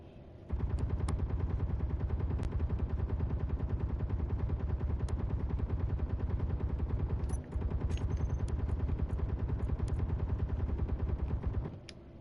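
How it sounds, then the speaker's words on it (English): Sustained automatic gunfire in the space survival game Lost in Space Salvage Survival, a dense continuous stream of rapid shots lasting about eleven seconds with one brief break, loud and close, with no talking. "What the hell are you shooting at?"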